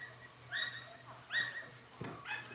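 Dogs give several short whimpers and yips, rising whiny cries in three or four separate bursts, fairly faint over a low steady hum in a workshop setting.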